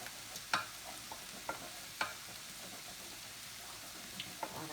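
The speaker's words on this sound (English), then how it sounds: "we just keep stirring it for a couple of minutes and cooking off that flour" Flour roux being stirred in a pan over low heat, with a soft steady scraping and a few sharper spoon knocks against the pan; faint and close, with no talking.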